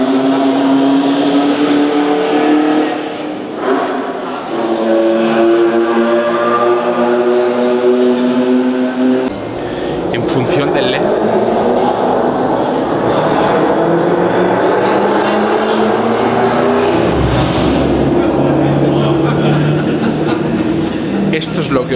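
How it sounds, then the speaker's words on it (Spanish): Recorded moving cars play through a museum exhibition space, engine notes rising and sweeping past one after another in a continuous loud wash, with a voice talking over the sound. "han grabado algunos vehículos en movimiento y son los vehículos que se van escuchando a lo largo de la exposición."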